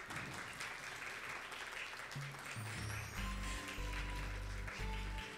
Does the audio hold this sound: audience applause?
yes